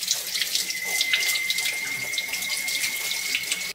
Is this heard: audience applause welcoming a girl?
no